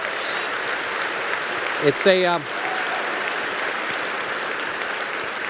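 An auditorium audience at an Arizona State University event in Phoenix gives a sustained round of applause, dense and steady throughout, with a brief voice heard in the middle.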